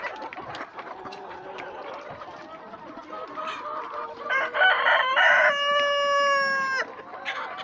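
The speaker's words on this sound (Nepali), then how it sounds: "65 छ भाले, यस्ता भालेहरू।" Local roosters on a poultry farm with hundreds of hens, clucking and murmuring in the background before one rooster lets out a loud, close crow near the end.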